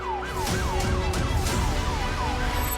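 An ambulance siren wails in repeated rising-falling sweeps during a civil defence mock drill, loud and fairly close, over rumbling traffic noise.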